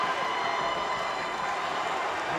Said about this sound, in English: And listen to the crowd roar.